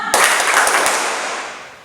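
A group playing a tepuk clapping game lands a quick burst of several sharp claps together, followed by a fading ring of the room.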